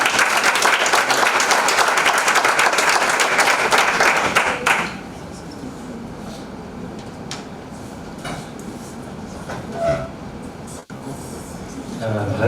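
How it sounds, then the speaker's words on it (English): Audience applause fills a pitch competition hall in Burundi right after a presentation, dense and loud for about five seconds, then dies away into quieter room sound with a few scattered claps and voices. "Vraiment, applaudissons."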